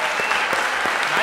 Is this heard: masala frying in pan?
no